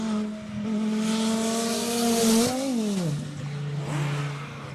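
A BMW E36 race car with a naturally aspirated six-cylinder engine howls past at a classic car circuit event, its revs climbing steadily then dropping sharply as it shifts down, loud and close with no talk.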